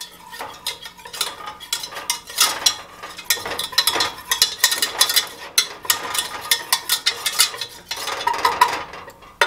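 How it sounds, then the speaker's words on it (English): A whisk working melted butter and flour together in a saucepan, making rapid metallic clicks and scrapes against the pan in a busy, uneven rhythm, close and fairly loud with no voice. "I'm going to add in 2 tablespoons of all-purpose flour. We'll kind of whisk these together."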